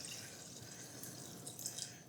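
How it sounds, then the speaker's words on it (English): Water poured into a slow cooker onto sautéed garlic and thyme, a faint, steady trickle and splash running throughout with a few brighter drips near the end. "I'm going to put some water in here"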